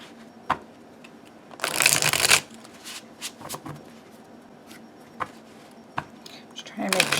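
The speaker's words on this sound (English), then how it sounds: "Just trying to make sure that they're well shuffled." A Hezico tarot deck being shuffled by hand: a loud, dense riffling burst in the middle, then scattered soft card taps and flicks, close and mostly on its own.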